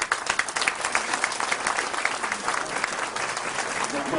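A crowd at a Tea Party gathering applauds for Orly Taitz, with dense, steady clapping filling the room and no break in its loud, even wash of sound.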